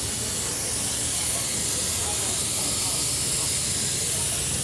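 Continuous broadband hiss of pressurized coolant escaping from the hot radiator cap of a Honda Pilot, a steady loud rush with no breaks for several seconds.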